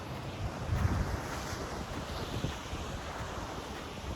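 Steady wind and surf along a seashore, a broad continuous rush with the low roar of breaking waves, buffeting the microphone near the start and holding steady throughout with no voices.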